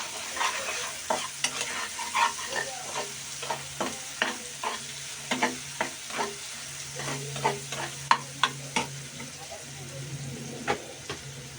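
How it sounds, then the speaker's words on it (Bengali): Turmeric, red chili and cumin powder frying in a pan with continuous sizzle, a spatula scraping and tapping in a quick irregular rhythm, close and clear. "হলদির গুঁড়ি এবং লাল মরিচের গুঁড়ি সামান্য জিরের গুঁড়ি ভালো করে ভেজে নেব"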